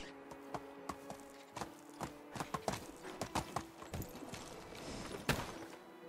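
Horse hooves clop at a steady walking rhythm in the medieval survival game Medieval Dynasty, each close, crisp hit standing out clearly with no talking.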